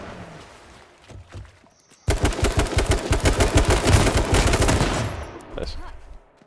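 Rapid automatic gunfire in the battle royale game H1Z1, a sudden loud burst of closely spaced shots lasting about three seconds after a quiet lead-in, then a few trailing thumps.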